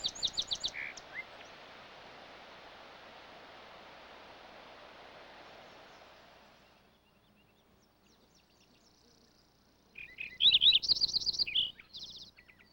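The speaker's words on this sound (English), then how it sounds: "Lincoln sparrow has a well-deserved reputation as an elusive bird, but in its wet, remote breeding ground, its rich warbling song is unmistakable." A Lincoln's sparrow sings its rich warbling song in a wet, remote breeding ground: a brief phrase at the start, then a long stretch of steady rushing noise, and a bright, louder burst of song near the end.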